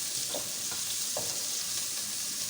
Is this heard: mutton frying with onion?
yes